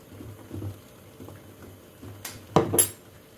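A spoon stirs 70% vinegar essence into a cooking pot, giving a few soft scrapes followed by a louder, brief clatter of metal against the pot near the end.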